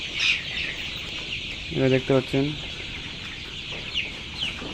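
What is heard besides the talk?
colour bird chickens clucking on a poultry farm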